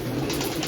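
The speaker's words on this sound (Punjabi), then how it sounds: "ਇਹ ਛੇੜ ਹੋ ਗਏ ਦੇ ਨੇ ਕਬੂਤਰ ਸਾਡੇ ਕੋਲ" Pigeons coo softly and briefly in a short burst, with a low throaty murmur under a steady background hum.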